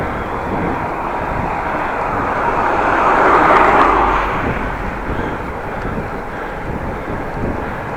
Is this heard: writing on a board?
no